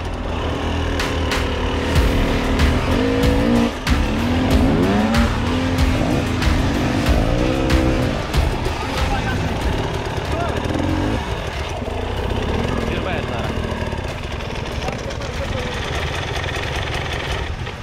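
Hard enduro motorcycles run at a Ukrainian championship stage in Zhytomyr, with engines revving and rising in sharp bursts and whining sweeps over a busy, noisy background, while people talk throughout.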